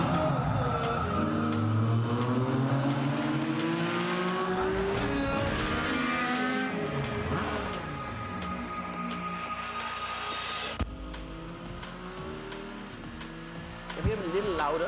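In the Forza racing video game, car engines rev and shift with rising and falling pitch while tires squeal and skid repeatedly, loud and continuous throughout.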